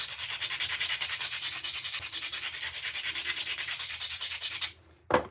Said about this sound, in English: I'm going to abrade with this abrasive stone.